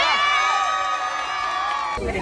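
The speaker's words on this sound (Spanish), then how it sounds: "Bueno, un aplauso porque es la primera." An audience cheers with sustained whoops and shouts, loud, bright and continuous, with voices merging into one excited roar.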